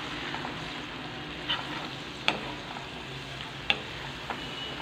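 Tomato paste fries in hot oil with a continuous, even sizzle, broken by a few faint clicks from stirring.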